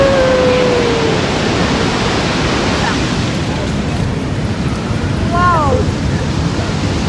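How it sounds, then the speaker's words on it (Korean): Steady broadband roar of Niagara Falls fills the scene as a continuous loud wash of water, with people speaking over it. "나이아가라 폭포에 왔습니다"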